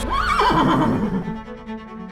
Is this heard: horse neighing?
yes